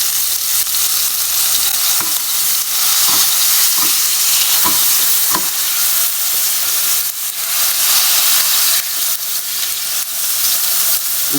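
A steak sears in a hot pan with a loud, steady sizzle that runs for several seconds, broken by a few sharp pops and crackles.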